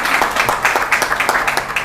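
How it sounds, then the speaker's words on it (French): Audience applause at a general assembly of Cameroonian women heavy-equipment drivers and mechanics: dense, steady hand clapping from a crowd, with irregular individual claps standing out, loud and continuous throughout. "Applaudissons pour nous,"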